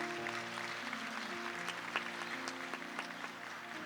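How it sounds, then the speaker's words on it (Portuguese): Faint applause from a church congregation rolls on steadily, a soft crackle of many hands with a low sustained tone humming beneath it. "Pode aplaudir?"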